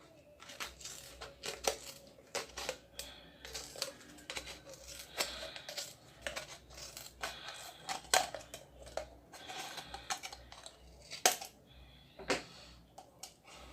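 Scissors snip through a recycled plastic bottle along a marked cutting line while percussion instruments are being made, giving a quiet, irregular series of crisp clicks and crinkles with no talking.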